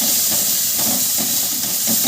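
Crab gravy sizzles in a pan with tomato, onion, garlic and ginger paste, giving a steady, close, bright hiss with faint scraping as it is stirred.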